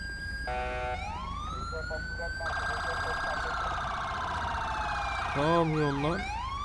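An ambulance siren in the GTA 5 police mod wails and yelps with rising and falling electronic tones, loud and continuous, shifting pattern midway over a low engine rumble.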